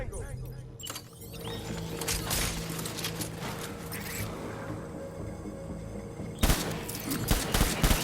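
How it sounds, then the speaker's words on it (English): Bursts of video-game gunfire in Death Stranding, a dense crackling fusillade with metallic clatter running through the scene, louder bursts near the end, over continuous game sound and voice chatter. "Taking fire!"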